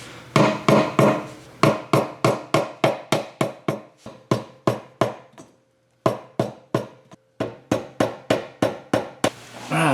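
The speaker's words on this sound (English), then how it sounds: "So I just need to keep hammering away" Hammer blows against a stuck oil pan on a BMW E32 735iL, about two dozen sharp, close metallic strikes in a steady rhythm, with two brief pauses.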